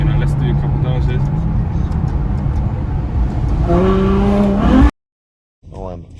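Ferrari F12 Berlinetta V12 engine, 740 horsepower, roaring loud and close, its pitch stepping and then rising sharply through downshift blips before cutting off abruptly; a brief voice follows after the silence.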